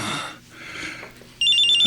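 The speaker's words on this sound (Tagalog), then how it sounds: "may tumatawag sa cellphone ko" A cellphone starts ringing with an incoming call at night: a clear, steady electronic ringtone cuts in suddenly after a stretch of quiet room noise.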